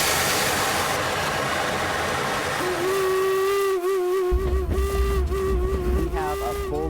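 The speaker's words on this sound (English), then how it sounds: "The cold weather, it really makes the steam pop" A steam locomotive's whistle sounds a steady shrill tone over loud rushing steam hiss and engine noise in cold weather at a Utah heritage railway event, close and sustained.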